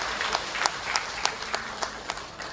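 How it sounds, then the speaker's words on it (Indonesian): An audience at an official Indonesian gathering applauds regional leaders, a fairly steady wash of clapping with a few sharper individual claps standing out, no clear speech over it. "kita mohon tepuk tangan yang luar biasa"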